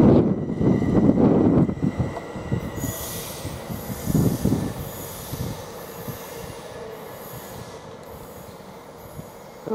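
A departing Greater Anglia passenger train at Cambridge North station squeals loudly from its wheels, with heavy rumbling at first that eases into a steady, continuous screech fading slightly as it pulls away.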